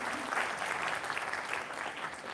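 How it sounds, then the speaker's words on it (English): Audience applause at a seminar for a speaker, a fairly faint and even wash of clapping that holds steady with no talk over it. "Let's give him a round of applause."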